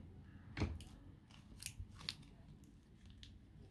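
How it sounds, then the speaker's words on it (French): Scissors snipping through a strip of tape on a paint-by-number embroidery kit, giving a few quick, close, crisp cuts with soft handling noise in between and no talking. "Je vais venir couper le scotch"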